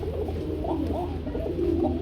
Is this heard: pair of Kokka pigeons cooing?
yes